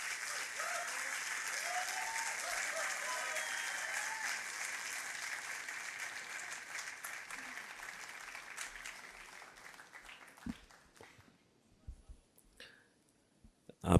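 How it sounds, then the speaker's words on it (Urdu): Applause from an audience at the 16th Aalmi Urdu Conference humour session, loud and sustained for about ten seconds, then thinning to scattered claps and fading. "آپ کی تالیاں"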